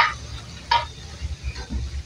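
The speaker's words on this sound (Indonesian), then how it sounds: "Terus kita aduk sampai rata ya." Brief scrapes of a spatula stirring scrambled eggs with anchovies in a pan over a low sizzle, a few quick strokes close by.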